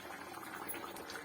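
A Kerala fish curry made with avoli (pomfret) bubbles in a covered pot, a soft, steady, close simmering burble with irregular small pops, unaccompanied by talk.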